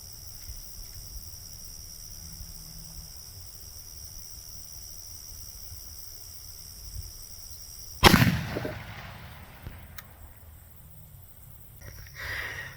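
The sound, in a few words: 223 Remington rifle shot into ballistic gel at 50 yards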